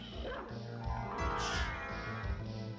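A voice imitates a dog barking, a few gruff vocal woofs repeated close and loud over a steady background, with no real dog present.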